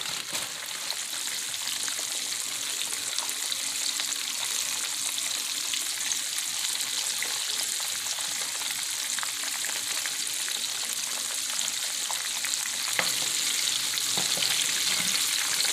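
Shrimp frying in hot oil for a Wild West Shrimp recipe, a steady, dense sizzle and crackle that holds evenly throughout, close and alone with no voices.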